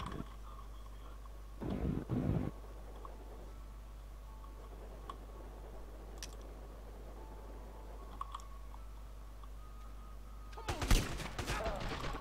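Gunfire in the multiplayer game Multi Theft Auto: two short bursts of rapid shots, one early and a louder, denser one near the end, with faint isolated pops between over a quiet hum.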